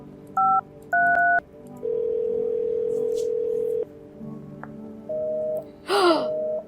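A phone number dialed in the video game No, I'm not a Human: short electronic keypad beeps, then a long steady tone, more beeps and a brief gasp-like vocal sound near the end.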